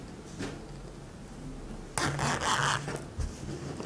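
The zipper slider on a handmade fabric pencil case is pulled along its teeth: a faint scrape early on, then a louder, longer zipping rasp near the end, close up.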